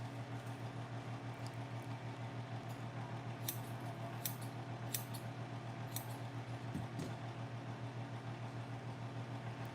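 Freshly sharpened and polished sewing scissors cut through fabric, giving a handful of faint, crisp snips spaced a second or so apart over a low steady background hum.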